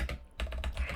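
Quick, close keystrokes on a computer keyboard while typing Python code, a brisk run of several distinct clicks over about a second with a low hum underneath.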